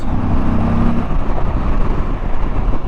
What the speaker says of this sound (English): that's me just rolling on at 65 miles an hour in 6th gear, and not a ton is going on.